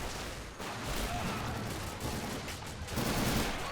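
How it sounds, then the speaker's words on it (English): Gunfire fills a hectic firefight on a Korean War hill battle in the RobZ Realism Mod game, dense overlapping bursts and shots forming a continuous loud wash with a brief lull partway. "This is a really hectic firefight."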